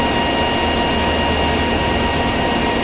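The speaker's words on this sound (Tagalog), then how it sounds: "Ang trabaho ng dalawang motor na to, ikot yan sila" Two mixer motors at a styrofoam plant running together, blending regrind and virgin bits, producing a loud, unbroken mechanical roar with steady hum and no pauses.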